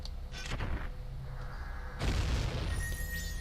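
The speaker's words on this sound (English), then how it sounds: "They explode every time you kill one." Creatures bursting apart as they are killed in Zelda: Majora's Mask, a couple of soft booming blasts, the second and larger one near the middle, rolling into a noisy fading tail.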